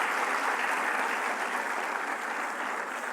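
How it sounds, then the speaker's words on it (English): A university auditorium crowd applauds the performances at an event with the Dalai Lama, a full, even roar of many hands clapping that holds steady and slightly fades near the end. "I think we could have another round of applause for all the performances together."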